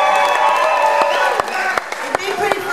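An audience claps and cheers for a live folk band performing a song together on stage, a dense continuous wash of applause with sharp individual claps and whoops standing out.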